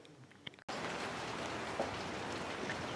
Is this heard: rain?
yes